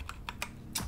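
Ctrl-Z keyboard shortcut pressed on a computer keyboard while configuring a Cisco network switch: four quick, close key clicks, crisp and evenly spaced, heard alone without talk.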